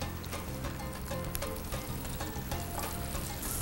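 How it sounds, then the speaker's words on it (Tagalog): Calamari frying in a hot pan seasoned with Magic Sarap and parsley, giving a steady close sizzle with scattered crackling pops throughout, no voices. "Ilalagay natin ang ating calamari. So nandiyan na, pa-fried na natin."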